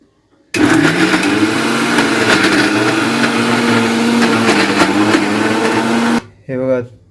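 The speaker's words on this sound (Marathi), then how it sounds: "आता मिक्सर लावायचं आहे हे भांडं आहे" A kitchen mixer grinder whirs loud and steady for about six seconds as it grinds schezwan chutney, then cuts off abruptly, followed by a brief voice.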